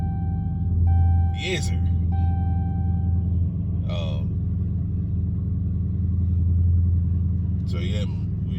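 Semi truck diesel engine idling low and steady after starting, a deep rumbling drone heard close from the cab throughout, with a steady electronic tone early on and a voice speaking briefly over it.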